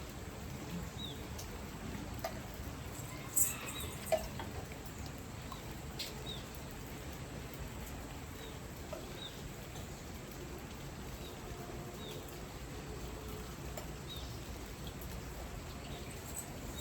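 Steady rain falls outside during a stormy spell, making a continuous, fairly faint hiss of drops with no talk and only a couple of small brief knocks.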